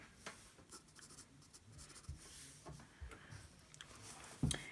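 Pencil shading a drawing on paper, quiet scratchy strokes in short repeated bursts, close and faint, ending with a louder scrape.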